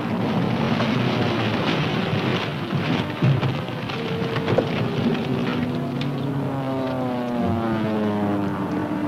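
Propeller-driven WWII dive bombers in flight, a steady loud engine roar with rising and falling harmonic drone and rushing, crackling noise throughout, no voices.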